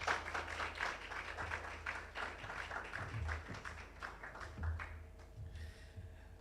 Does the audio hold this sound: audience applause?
yes